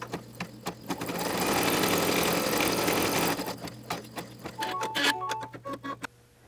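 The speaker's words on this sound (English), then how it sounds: "So now we're ready to take it to the machine and start sewing." A computerized embroidery machine sews red placement lines for an in-the-hoop candy holder, its rapid mechanical stitching steady and close for several seconds, then breaking into short separate bursts and ticks.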